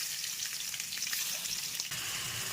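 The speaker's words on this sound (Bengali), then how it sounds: "এরপরে আমি মাংসগুলো শুধু ভাজতে দিয়ে দেবো।" Chicken pieces marinated in lemon fry in hot spiced oil, giving a steady, close sizzle with light crackle throughout and brief stirring noises near the end.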